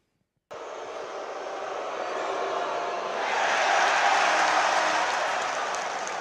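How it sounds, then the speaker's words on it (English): Basketball crowd in an arena loudly booing a player each time he touches the ball, a sustained, swelling roar of many voices that rises and then holds steady with no talk over it. "that was the crowd booing Giddey every time he touched the ball during the game"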